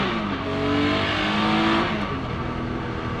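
A BMW E36 M3 race car with an S54 engine drives on a public street, its engine droning loud and steady with a slight rise in revs mid-way, a continuous harmonic growl close by.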